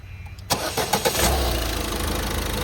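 A 2019 Ford EcoSport Titanium with a 1.5-litre diesel engine cranks with a few quick starter bursts, then catches and settles into a steady, rough diesel idle close by.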